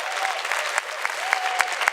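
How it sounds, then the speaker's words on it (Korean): A lecture audience claps together after a speaker, an opera singer and former boxer, asks for applause, giving a dense, steady patter of many hands close by with a few sharper claps standing out, lasting the full two seconds. "박수 한번 치셔야 돼요."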